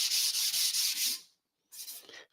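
Steady scratchy sanding strokes on a damaged surface, loud and close, stopping briefly before a shorter burst resumes.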